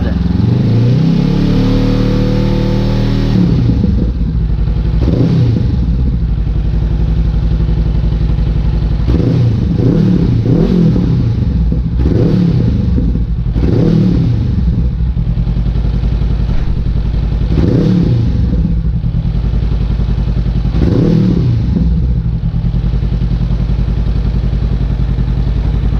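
A 2019 Honda CBR500R fitted with a Scorpion exhaust idles loudly nearby, then is blipped repeatedly in a series of sharp revs climbing toward 4,000 rpm, each settling back to a steady idle.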